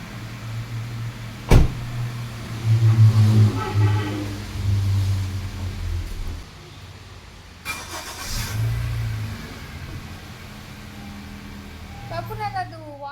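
A car door slams, an engine cranks and starts, then settles into a low idle with a second thump partway through, while people talk nearby.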